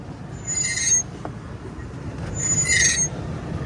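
A pickup truck's bare wiper arms scrape across the windshield without blades, two harsh, squealing sweeps about two seconds apart over a low rumbling background.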